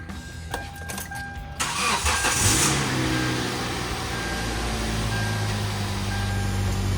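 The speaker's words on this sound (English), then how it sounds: "let's see if it starts and what warning lights are on now." A car engine cranks briefly and catches after its battery has been reinstalled, then settles into a steady idle with a low rumble, close and fairly loud.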